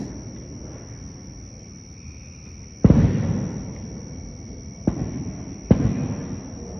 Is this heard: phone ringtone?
no